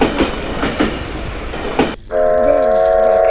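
A Lego toy train comes along the railway, first with rhythmic clicking rail noise, then a sustained electronic horn-like tone, close and fairly loud.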